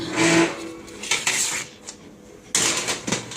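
Metal baking trays spread with almonds for homemade almond butter clatter and scrape as they slide into an oven, with two loud bursts of rattling separated by quieter handling.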